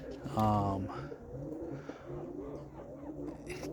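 Young roller pigeons, under a year old, coo in short throaty bursts close by, a louder call near the start followed by softer murmuring coos.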